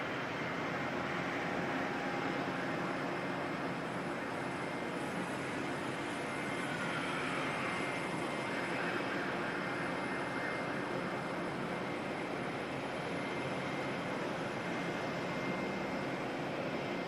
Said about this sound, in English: Qantas 119, but today this is 737 coming in from Brisbane